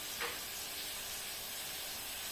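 Chicken mince frying in a pan with spices for chicken momo, giving a steady, even sizzle and hiss throughout with no talking.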